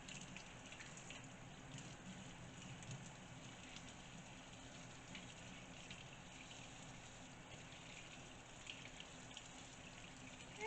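Steady faint running water rinses a corned beef brisket in a home kitchen, a continuous even splashing hiss with no pauses or speech.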